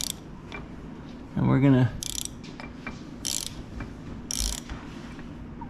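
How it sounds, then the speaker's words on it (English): A wrench turning the crankshaft of a 2016 Yamaha YZ250F engine counterclockwise, giving a few short metallic ratcheting clicks and scrapes at close range, with someone speaking briefly in between. "So just put your wrench in, start twisting it counterclockwise."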